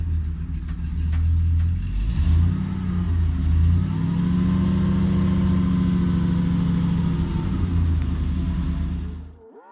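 Truck engine on a 1995 Kodiak carrying a National 300B crane, running at a steady loud rumble with rising and falling tones while the boom raises, close and continuous, then cutting off at the end.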